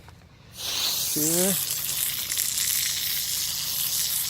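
Garden hose water rinsing out equipment during backyard chicken flock maintenance, a steady loud hiss starting after a brief quiet moment and continuing throughout, with a short voiced sound near the start.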